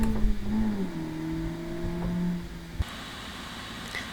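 A 2011 ETK K-Series touring-spec car engine in BeamNG.drive holds a steady, loud revving tone that stutters briefly against the 7,000 RPM rev limiter, then drops away to a quieter idle.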